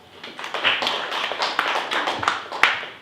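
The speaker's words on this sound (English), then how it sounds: "Let's give her a round of applause." A small sales-meeting audience gives a round of applause as a speaker is introduced, a sparse, moderately quiet patter of clapping hands that swells and fades in uneven bursts with a few sharper individual claps.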